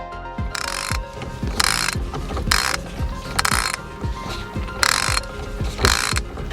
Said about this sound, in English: After a few turns of the socket wrench,